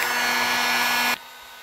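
A heat gun blows a steady, loud hot-air roar while loosening a stuck valve cover gasket, then cuts off abruptly, leaving a faint lingering hum.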